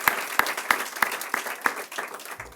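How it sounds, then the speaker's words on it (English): An audience applauds at the opening of a new school, scattered claps with a few sharp, evenly spaced near claps standing out over a thinner crowd, tapering off toward the end. "So a nice round of applause for them to get it all."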